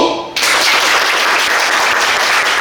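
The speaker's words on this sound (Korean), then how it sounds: "스스로 축하하면서 박수!" A crowd at a church Bible camp retreat bursts into loud, dense applause after a brief quiet start, with sustained clapping filling the rest of the clip.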